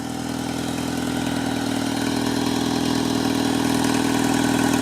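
A Toyota TownAce Super Extra Van idles at a steady, even engine drone, close and continuous, with no voices over it.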